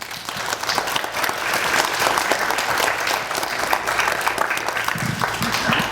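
Families at a kindergarten graduation applaud the children, a full, sustained wash of clapping that stays loud and even throughout, with faint crowd murmur underneath.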